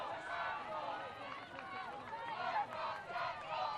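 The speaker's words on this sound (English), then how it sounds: "FDU crowd doesn't like it." A basketball crowd at an FDU college game reacts loudly to a foul call, a dense roar of shouting and babble that swells and dips across the whole stretch, close and continuous.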